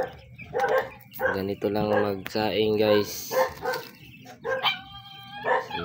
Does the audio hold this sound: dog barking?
yes